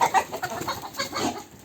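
Rooster in a yard, a series of short, close clucking calls in quick succession, fairly clear with no talk over them.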